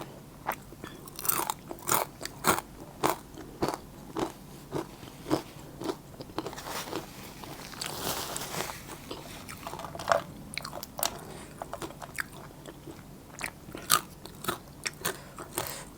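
Close, crisp bites and crunchy chewing on wild pak wan fruit, a dense run of sharp crackling crunches with short pauses, heard alone without talk.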